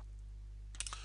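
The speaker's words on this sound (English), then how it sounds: "So I'm going to type 250" Three quick clicks of keys being typed on a computer keyboard to enter a number, close and crisp against a quiet hum.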